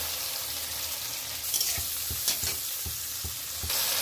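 Ginger and green chili paste hits a cauliflower and potato curry frying with a little water, giving a steady close sizzle marked by a series of soft stirring knocks and scrapes against the pan.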